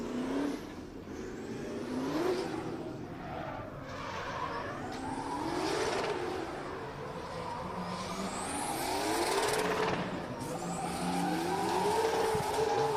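A drift car at an Oman drift championship qualifying run revs hard and screeches its tires, the engine note rising and falling through repeated slides at a steady distance.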